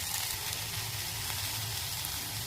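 Chopped onion and potato fry in hot oil in a pan for a khichdi, giving a loud, steady, continuous sizzle with no breaks.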